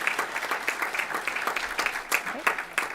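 Applause from an audience at a school board of education meeting, a steady dense patter of many hands clapping for about three seconds, fairly close and full, with no talk over it.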